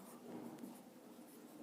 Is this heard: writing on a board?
yes